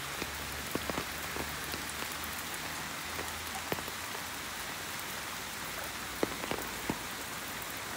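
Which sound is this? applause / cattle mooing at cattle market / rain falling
rain falling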